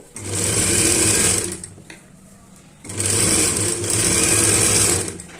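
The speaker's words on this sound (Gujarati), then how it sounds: "આની ઉપર આપણે ધાર સિલાઈ કરવાની છે" A sewing machine edge-stitches a katori blouse in two steady bursts of fast whirring, separated by a short pause where the motor stops.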